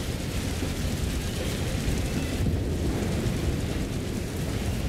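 Frag grenades burst in the Space Marine 2 video game, a dense, continuous rumbling roar of overlapping explosions with no clear gaps, loud and sustained throughout.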